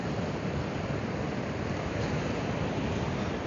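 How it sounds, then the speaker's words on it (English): Rough sea crashes beyond the Marbella promenade at night, a dense, continuous roar of surf and wind filling the air, loud and unbroken with no talking. "You can hear the sea. It's rough out there."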